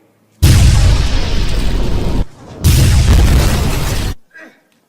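Two loud, sustained explosion blasts in the game Little Panda Fighter, each a broad roaring burst lasting almost two seconds, separated by a brief gap and followed by a faint small pop.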